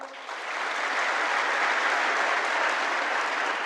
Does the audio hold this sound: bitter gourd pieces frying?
no